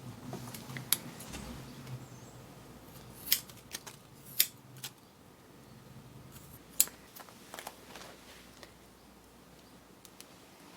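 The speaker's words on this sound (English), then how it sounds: "kind of pinch my hair until I find the shortest spot, and then cut straight." Scissors snip through wet hair in a few sharp, close clicks scattered over a quiet room, with a low hum early on and no talking.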